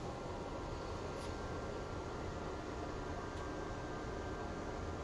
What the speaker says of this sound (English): I apologize if you hear some sort of white noise in the background.